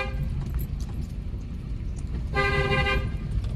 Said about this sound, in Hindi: इसका हॉर्न कैसे बजा